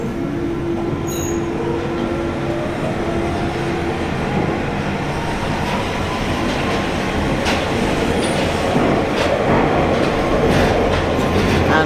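London Underground Central line train running westbound toward Ealing Broadway: a steady loud rumbling roar with rattling carriage noise and a faint rising wheel whine, continuous throughout, with no voices.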